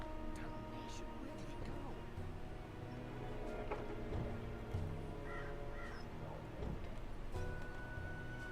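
A talking bird cawing in the video game Dreamfall Chapters, several harsh crow-like caws heard over steady ambient game noise, with faint voices in the background.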